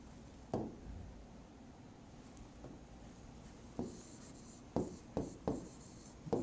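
Chalk or a marker writes on a board in a classroom lesson, making a faint ongoing scratch broken by several short, sharper taps and strokes at moderate distance.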